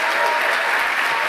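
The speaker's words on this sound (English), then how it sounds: "I want to hear a thunderous applaud for our programming team" A gala crowd's steady, enthusiastic applause, dense clapping filling the room without pause.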